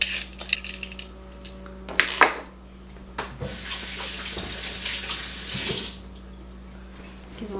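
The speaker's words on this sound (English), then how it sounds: "Give them a good rinse there." Tap water runs over home-grown carrots in a kitchen sink, a steady close splashing rinse broken by a few knocks of the carrots and bowl against the basin, with no talking.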